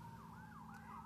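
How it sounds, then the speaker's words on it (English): An emergency vehicle siren wails in rising and falling sweeps, moderately distant and fairly faint over a low background rumble of traffic, with no voices. "there go the sirens."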